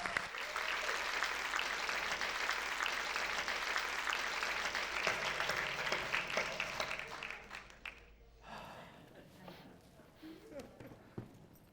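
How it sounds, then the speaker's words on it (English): An audience claps at a speaking event, loud and sustained at first, then thinning out and fading to scattered claps; voices come through faintly beneath and after. "give a round of applause for our first group of speakers"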